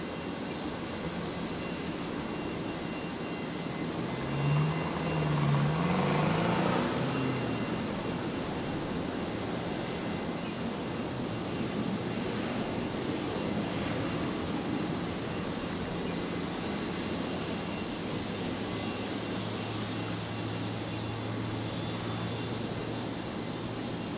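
A Boeing 737 airliner arriving from Sydney at Brisbane Airport gives a steady, distant jet engine roar that swells briefly early on and then continues as a broad, even rumble.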